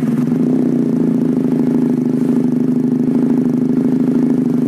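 A Benelli TNT 250 two-cylinder motorcycle engine running steadily, a loud even throbbing drone held at a constant pitch close by, with no talking.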